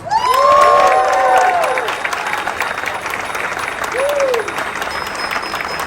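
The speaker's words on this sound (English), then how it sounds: "Give it up for Ward 1 Councilman John Gonsalves." Applause and cheering from a crowd at an outdoor street rally in support of South Water Street, with shouts and whoops rising over steady clapping, loudest at the start and easing off.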